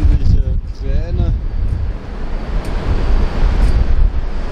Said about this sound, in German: Der Wind hat hier ein bisschen nachgelassen